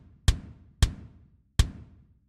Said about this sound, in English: the kick that was recorded on the album was this Pearl Reference Custom